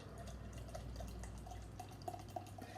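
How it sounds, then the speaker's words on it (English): Homebrewed pale ale pours from a bottle into a pint glass, a faint, continuous trickle broken by soft bubbling splashes and a few drips. "Let's pour out into the pint glass."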